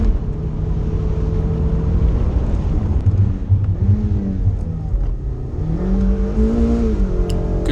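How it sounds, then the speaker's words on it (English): A Mazda MX5 on a hillclimb run at Wiscombe Park revs hard and continuously, its engine note rising and falling through gear changes, loud and close throughout with no talk. "Make sure I revved the car extra here"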